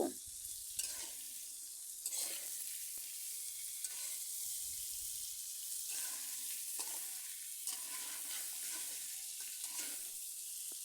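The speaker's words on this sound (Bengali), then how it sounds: "এভাবে আমি আরও কিছুক্ষণ ফুলকপি আলু বেজে নেব" Cauliflower and potatoes frying in a pan with salt and turmeric: a steady, close sizzle with repeated scraping stirs at a regular rhythm, no voices.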